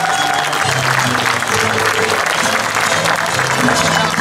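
Audience applause at a stage show on the stage at Fontinhas, a cantoria event where a singer imitates other performers: steady, loud clapping from a crowd fills the whole stretch, with sustained musical tones running underneath.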